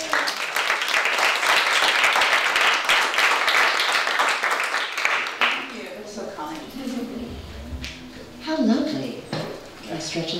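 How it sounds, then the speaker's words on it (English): Audience applause at a talk, a loud dense wash of clapping for about five seconds that then stops, leaving a quieter room with scattered shuffling and a voice talking. "everyone give her a round of applause"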